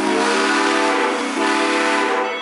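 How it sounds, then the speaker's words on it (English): A loud, close steam train whistle on the Georgetown Loop railroad sounds, two long toots with a brief dip between them, rich and tonal over rumbling rail noise. "Now we're going to get two toots on the whistle."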